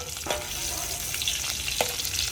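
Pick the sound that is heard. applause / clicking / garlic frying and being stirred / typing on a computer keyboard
garlic frying and being stirred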